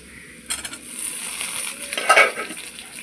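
Eggplant added to a pan of reddish fried lentils brings a sudden crackling sizzle, followed by a brief metallic clink and scrape of a stirring utensil, close and fairly quiet with no talk.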